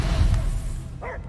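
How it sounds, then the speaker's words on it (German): A dog barks in the video game Guardians of the Galaxy, a short burst of yips near the end over a dense, rumbling game soundscape. "Ich höre nur Gebell."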